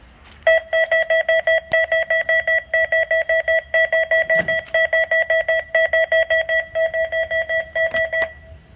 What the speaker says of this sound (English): the demonstration you just saw is to demonstrate proof of concept for a wireless beep baseball system